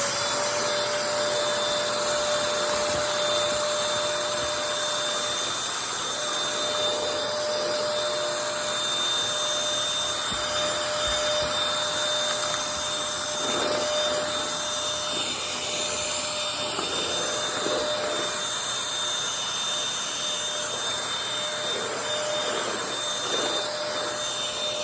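A Bissell 3 in 1 Turbo Stick 2610 vacuum cleaner runs continuously at close range, a steady loud motor whine with airy suction noise and a few brief rattles of debris, no voices.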